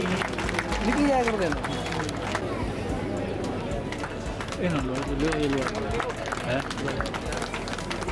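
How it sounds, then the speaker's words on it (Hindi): Enthusiastic clapping from an audience at a ceremony honoring dignitaries at a Dr. Bhimrao Ambedkar birth anniversary event, a continuous patter of hands running throughout, with someone speaking loudly over it. "जोरदार तालियों से कृतज्ञता ज्ञापित करें इन विभूतियों के लिए।"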